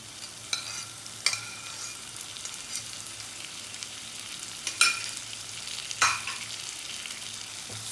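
Chopped tomato stirred into onions frying for masoor dal tadka, a continuous sizzle broken by a few sharp scrapes and clinks of the spoon against the pan.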